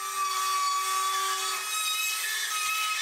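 A power saw makes kerf cuts along long strips for drywall coves, a steady, continuous whine with a bright tonal hum running throughout, close and alone.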